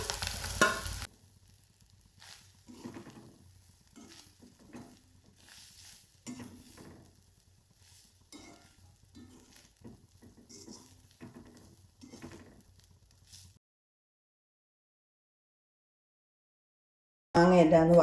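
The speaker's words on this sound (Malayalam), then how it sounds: "തേങ്ങയും കൂടെ വറുത്ത് കോരി എടുക്കുക." Grated coconut frying in a pan alongside mango, faint crackling and scraping stirs in short bursts before a long silence, with a louder burst of sizzle at the very start and end.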